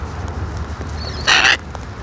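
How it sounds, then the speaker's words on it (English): A wild parrot gives a single loud, harsh squawk, short and close, over background hiss and low outdoor rumble. "with some wild, beautiful parrots while we're in lockdown"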